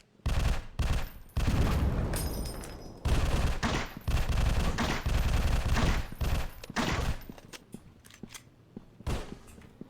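Rapid bursts of automatic gunfire from a weapon in the video game Alien Invasion 2, loud and close, fired in long sustained volleys with short gaps between them and a few lone shots toward the end.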